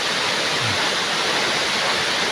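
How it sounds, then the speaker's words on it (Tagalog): A waterfall hidden in the forest near Diadi, Nueva Vizcaya, a dense, steady roar of falling water that fills the whole clip at close range without any talking. "nakatago kaya yung iba hindi nila alam tong waterfalls na to"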